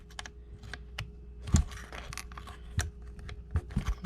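A lower rail mod for a KS7 shotgun is worked into place with small plastic clicks and snaps, a scatter of faint, close taps and one sharper snap, in a quiet room.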